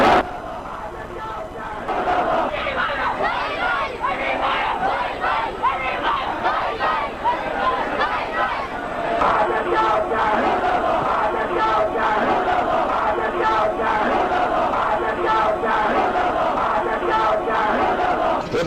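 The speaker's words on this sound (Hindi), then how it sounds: "ये शहादत हुसैन मुर्दाबाद के नारे लगाते हैं" Large crowd shouting slogans together, a dense continuous mass of voices with repeated surging phrases, moderately distant and steady throughout.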